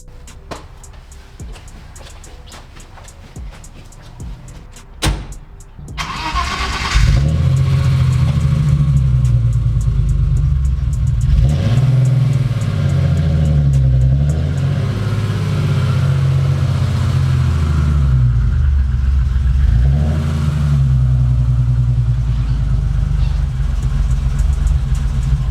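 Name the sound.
car engine starting and revving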